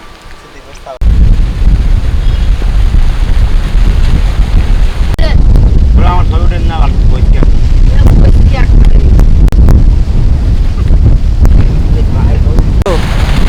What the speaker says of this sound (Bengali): কিন্তু অনেক জোরে বাতাস হচ্ছে